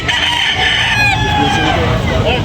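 A rooster crows loudly and close at a busy chicken market in Tabunok, Talisay, Cebu, one drawn-out call over a murmur of crowd noise and other fowl.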